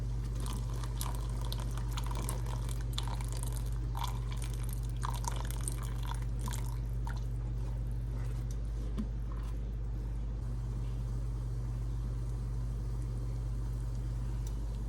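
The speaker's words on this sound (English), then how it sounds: "I'm going to go ahead and start adding the broth again." Broth is poured into a simmering pot of turkey and rice soup, a soft liquid trickle and splashing with light clinks over a constant low hum, fading to a quieter bubbling simmer toward the end.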